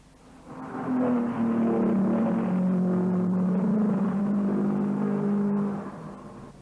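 1953 Formula 1 racing cars roar around a circuit, a loud sustained engine drone with shifting pitch that swells in after a quiet start and holds steady before easing off at the end.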